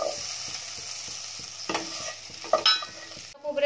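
Chopped potato being stirred with homemade masala in a frying pan for a prawn curry, a gentle sizzle under rhythmic low scraping strokes, with a few sharper clatters of the spoon against the pan.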